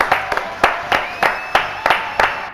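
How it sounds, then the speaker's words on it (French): Studio audience at a French talk show gives rhythmic applause, quick sharp claps repeating about every third of a second, fairly close and steady, with no one speaking over it. "Applaudissements pour François Alquier"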